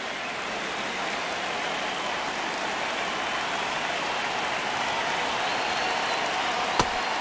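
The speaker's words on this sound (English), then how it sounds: "Crowd locked in right now." Steady stadium crowd murmur from a baseball video game, MLB The Show 26, during a tight ninth inning, a broad continuous wash of distant voices with one brief sharp crack near the end.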